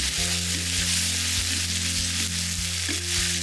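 Steady sizzling and frying of a sauté with oyster sauce in a hot frying pan, with broadband hiss and a low repeating hum underneath; no talking.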